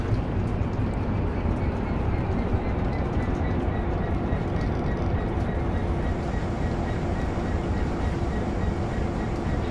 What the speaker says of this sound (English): Now we're going to slow this train down.